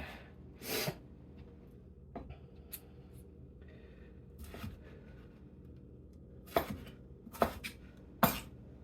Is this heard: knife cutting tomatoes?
yes